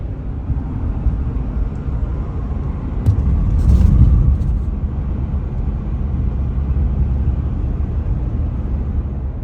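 A vehicle towing a trailer on a long highway drive to Vermont gives a steady low road rumble and engine drone that swells briefly partway through, with no voices.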